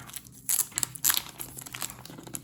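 Paper envelope from the mail being handled and torn open, with sharp crinkling and tearing bursts near the mic, two louder rips among softer rustles.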